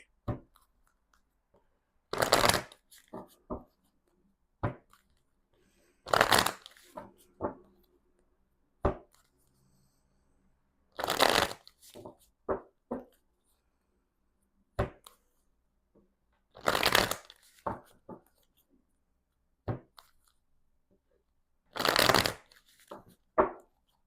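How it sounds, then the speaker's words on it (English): Tarot cards being shuffled in several separate bursts, each a crisp riffle followed by a few soft taps, spaced apart in a quiet room. "We're going to do some shuffling."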